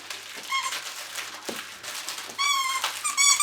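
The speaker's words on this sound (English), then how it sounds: "you'll have to excuse the dog playing with his toy" A dog plays with a squeaky toy indoors, giving repeated high squeaks at close range, loudest and most frequent toward the end, over a quiet background.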